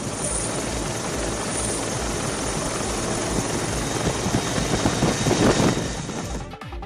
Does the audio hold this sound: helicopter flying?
yes